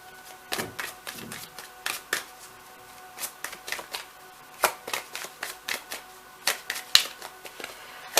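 Tarot cards being shuffled and drawn by hand, a close series of quick riffling flutters and sharp card snaps in an irregular rhythm, alone with no talking.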